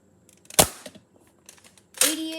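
X-Shot toy dart blaster firing foam darts, two sharp close snaps about a second and a half apart with small clicks of handling between.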